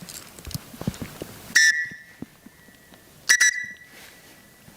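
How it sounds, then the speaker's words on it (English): A cheap whistle from a survival kit is blown twice, two short shrill blasts about two seconds apart, between faint handling clicks and rustles. "A whistle. This could be potentially useful."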